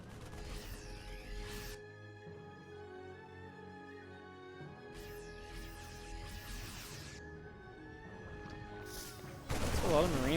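Siege tanks and other units firing in a StarCraft 2 Zerg-versus-Terran match, with bursts of gunfire and crashing impacts over a steady game music bed, dense volleys near the start, middle and a loud burst at the end.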